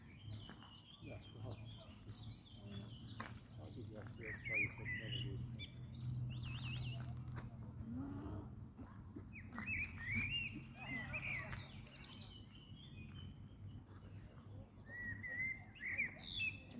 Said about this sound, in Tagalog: Tapos yung ibon kumakanta habang ako nagtitake ng video.